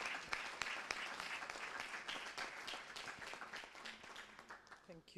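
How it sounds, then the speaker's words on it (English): A conference audience at an energy efficiency and electric mobility event breaks into sustained applause, dense clapping heard from a distance that gradually thins out, with a voice briefly audible at the end. "Round of applause to her."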